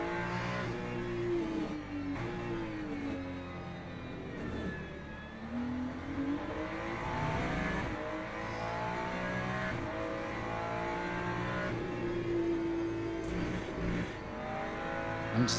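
Race car engines in Le Mans Ultimate, LMGT3 cars at COTA, a sustained layered drone of several engines rising and falling in pitch as they rev and shift through corners, steady and fairly loud throughout, with no talk.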